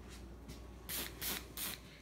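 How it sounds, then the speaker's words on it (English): An air freshener spray bottle gives several short hissing bursts in a room, three louder sprays following a couple of fainter ones, all close and fairly quiet. "Kind of does a little spray so that it smells better."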